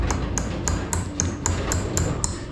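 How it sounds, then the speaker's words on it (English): A hammer taps a part into a bowling-machine front roller assembly, eight sharp metallic pings in an even rhythm, close and clear over a faint background hum. "Grab your hammer. Make it straight and tap it."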